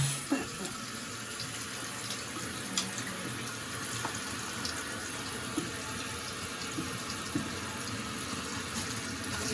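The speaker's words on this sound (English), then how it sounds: "So I'm going to leave the towels there for the moment while the tank fills up" Water streams steadily into a toilet tank as it refills after a running-toilet repair, a constant hissing flow with faint clicks and knocks throughout.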